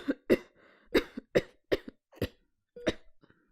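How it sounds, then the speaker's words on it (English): A person coughs several times in a short uneven series, close and clear, with brief pauses and a small throat-clearing sound between bursts. "coughed a few times"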